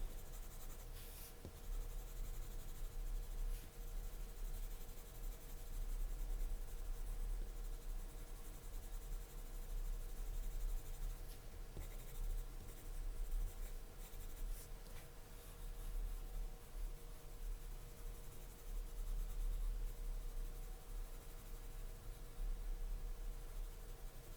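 A Prismacolor Deco Pink colored pencil is rubbed back and forth on paper to blend, producing a faint, continuous scratchy scribbling texture at close range with no talking.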